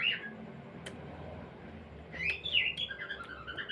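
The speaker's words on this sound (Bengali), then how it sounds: "আমার পাখিগুলো দেখো, কিচির মিচির দিন রাত" Pet birds give soft, high chirps and twitters in a quiet indoor space: a brief call at the start, then a looser run of faint chirping toward the end.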